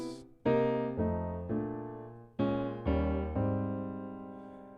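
Piano plays a slow sequence of sustained jazz guide-tone chords, each struck cleanly and left to ring, with a brief note before the first chord.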